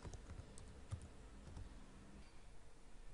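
A computer keyboard is typed on while entering a project name into a command-line terminal. The keystrokes come as quick, soft clicks in an uneven rhythm, faint and close, with no talking.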